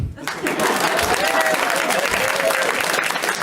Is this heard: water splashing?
no